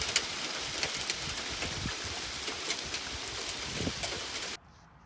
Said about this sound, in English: You can hear it hitting, and you can see it on the sidewalk a little bit. I'd say it's pea-sized hail.